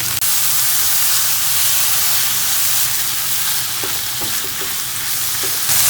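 Mushrooms sauté in a hot pan with a loud, continuous sizzle and hiss, broken by a few faint pops and ticks, and no voices.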